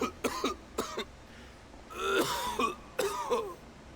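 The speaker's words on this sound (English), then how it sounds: "Why is he coughing so much?" Video game character in Genshin Impact coughing and clearing his throat in several close, harsh bursts: two short coughs, a pause, then a longer rasping fit and a final cough.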